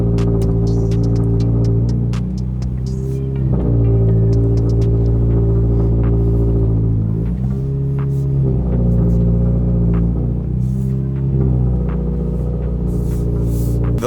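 A Subaru BRZ idling loudly after a cold start, a deep steady engine drone with strong low harmonics that shift in pitch several times, close up and without talking.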